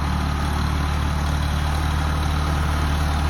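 An old, fully mechanical tractor engine idles with a steady, low, droning hum that stays constant and close, with no speech over it.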